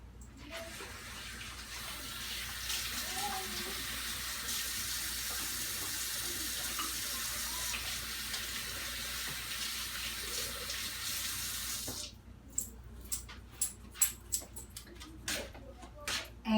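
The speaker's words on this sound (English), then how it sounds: "Wash our hands first." Hands being washed under a running tap, a steady close rush of water for about twelve seconds, then the flow stops and a few sharp drips and small clicks follow in near silence.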